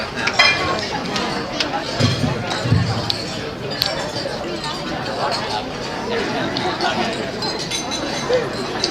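Glass and cutlery clinks ring out repeatedly over the murmur of a crowd during a wedding reception toast, with people talking throughout in a busy hall.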